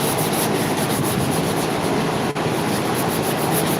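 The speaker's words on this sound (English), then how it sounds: "it's taking you longer to sand this bumper by hand than it has to do anything else on this vehicle" Steady hand sanding on a yellow Dodge bumper during scuffing before priming, a continuous close abrasive rubbing with a regular back-and-forth texture and one brief pause.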